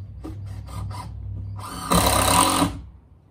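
Screws are driven into a gate beside a new koi pond build: a few short pulsed bursts of a power driver, then a longer, louder rasping run as a screw goes home, close by.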